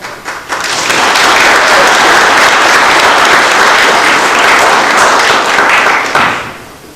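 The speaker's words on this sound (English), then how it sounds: "I'd like to have a round of applause, please, for the Ladies Auxiliary for putting on the meal." A banquet audience breaks into sustained applause for the Ladies Auxiliary after the meal, dense clapping rising quickly, holding steady and loud for several seconds, then fading out near the end.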